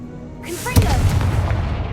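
A Confringo spell explosion in Hogwarts Legacy, a sharp boom and crackling blast that erupts after a brief rising whoosh, loud and close, then rumbles away.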